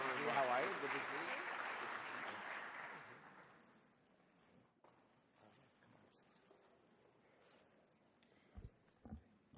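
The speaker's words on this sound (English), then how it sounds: "give them one more round of applause" An audience applauds honorees at an award ceremony during an annual investment manager conference, a full, dense round of clapping that fades out after a few seconds, leaving quiet room noise and faint voices.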